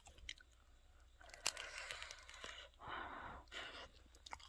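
Crunchy chewing up close of crispy air-fried kimchi dumplings, with crisp bites and munching sounds plus a few sharp breaths between mouthfuls, no talking.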